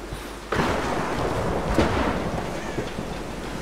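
Thunder in the video game Tomb Raider (2013): a sudden loud crack followed by a broad, rolling rumble that swells again midway and lingers over steady rain-like noise, with no voices.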